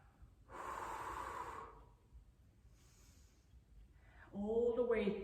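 A forceful breath pushed out during a floor exercise on a mat, a breathy hiss lasting about a second near the start, then a fainter breath, with a voice speaking briefly at the end.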